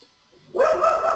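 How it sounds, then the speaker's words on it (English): Dog barking from a distance, picked up on the other end of an online call, a short burst of barks after a near-silent moment, with no speech over it. "That sounds like a dog on your end."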